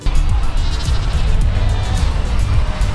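Cape fur seal mothers and pups calling at the Cape Cross colony, a loud, dense chorus of overlapping bleating, sheep-like cries close by, continuous and layered.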